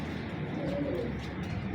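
A female Teddy pigeon from a Lakha breeding line coos in a steady, continuous low murmur close by, the soft rolling coo running through the whole short moment with no talk over it.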